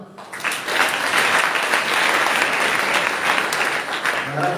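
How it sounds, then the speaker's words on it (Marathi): Sustained audience applause at a Jijau–Savitribai birth anniversary celebration in Halgara, Nilanga, Latur, loud and steady throughout after a brief quieter start, with a faint voice near the end. "टाळ्या वाजवा"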